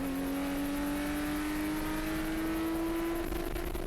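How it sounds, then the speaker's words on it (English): A 2015 Porsche Cayman S accelerates on a race track at Chuckwalla, its engine note climbing steadily in a smooth continuous rise, heard from inside the car at moderate level. "Brake at the very top here, and then back on the gas all the way around this corner."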